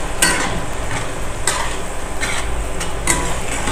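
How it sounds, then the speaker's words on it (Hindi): Boiled peas being stirred and roasted with salt and spices in a pan for a samosa filling: a loud, steady sizzle with scraping spoon strokes about every second and a half, and no talk. "और इनको चलाते हुए भून लेंगे।"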